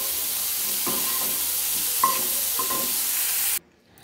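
Shrimp fry lightly in a pan of hot oil, a loud, steady sizzle close by with a few stirring scrapes, cut off abruptly just before the end.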